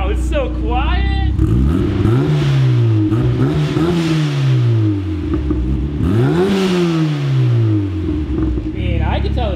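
A turbocharged Mazda Miata with its exhaust valve open, revving up and down several times in rising and falling sweeps, loud and close, with a steady idle between revs.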